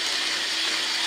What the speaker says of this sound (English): Each morning, the sound of her hand mixer pierces through her bakery